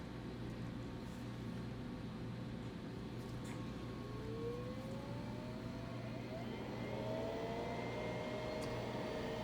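A laboratory centrifuge spins at 13,000 RPM while purifying DNA from cell lysate, giving a steady, close mechanical whir with a constant drone and a faint tone gliding upward midway.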